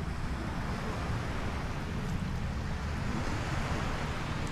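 Steady rolling surf of open ocean water around the artificial Palm Jumeirah island off Dubai, a continuous low wash of waves with wind-like rush, even and unbroken throughout.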